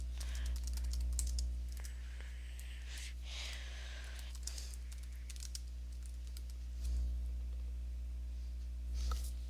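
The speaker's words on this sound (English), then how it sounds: "So you type that in" Computer keyboard typing as a Slack message is entered, with soft, quick key clicks in a close, quiet room and short pauses between bursts.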